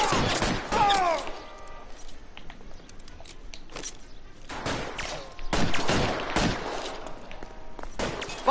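Bursts of suppressing gunfire in the video game L.A. Noire, several sharp broadband volleys spread across the clip, with a whistling ricochet-like sweep near the start and background game ambience between shots.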